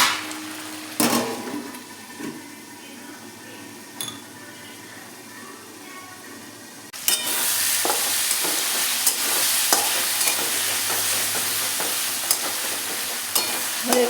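Potatoes fry in a pan, first as a quiet simmer with a few clinks, then a loud, steady sizzle starts about halfway through, with stirring scrapes and clatter over it.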